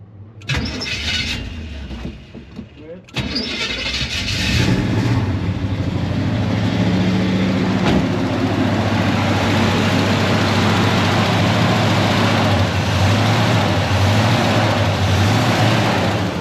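A 1974 Chevy C20 pickup that sat unused for several years cranks with a short, choppy starter whir, stops, then fires and settles into a loud, steady engine rumble close by.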